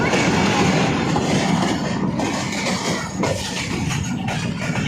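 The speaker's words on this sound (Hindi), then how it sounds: "ट्रेन पहुँच रही है" A Rawalpindi passenger train pulls into Kot Najibullah railway station, a steady loud rumble of rolling cars with clattering wheels and faint squeals, continuous throughout with no talk.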